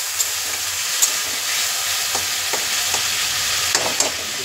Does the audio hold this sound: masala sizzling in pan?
yes